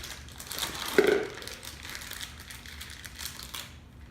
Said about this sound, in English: fold up this pastry bag